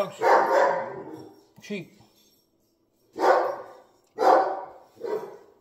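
A dog barks at someone walking by in a home kitchen during cooking, with loud repeated barks and a yip in uneven bursts, close up, mixed with a person talking.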